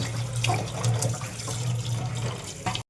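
Cold tap water runs steadily while raw chicken is washed clean in a sink, a continuous close splashing stream with small bursts from handling the meat.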